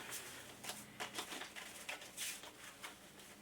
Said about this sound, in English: We're going to take the activation deck and we're going to shuffle it up.